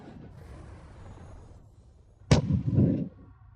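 A single sharp, loud cannon-like blast from a fantasy cultivation battle's demonic Eternal Night cannon strike, hitting suddenly out of a low murmuring background and followed by about a second of heavy, booming rumble that fades out.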